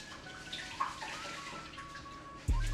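Warm tap water runs and splashes as rice is rinsed, a soft, steady trickle close by that ends in a louder gush and knock.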